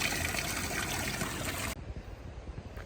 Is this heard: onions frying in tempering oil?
no